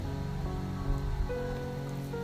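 Steady rain falling on a rainy-season morning, a continuous soft hiss with no pauses, mixed with a low sustained musical bed beneath it.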